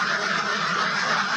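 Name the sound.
ducks quacking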